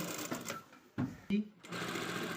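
Sewing machine stitching a sleeve, a soft mechanical run heard under a woman's steady speech, with a couple of brief louder clicks and thumps.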